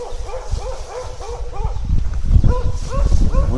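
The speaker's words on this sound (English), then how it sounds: "One starts barking and then the whole neighborhood." Several neighborhood dogs bark and yip in quick, overlapping bursts, close and fairly loud, with the barking thickening toward the end.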